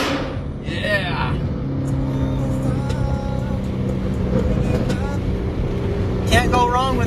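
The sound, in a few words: car with loud exhaust driving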